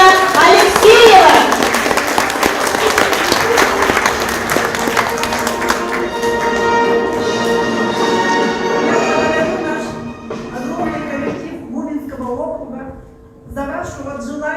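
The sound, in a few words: audience applause at a public meeting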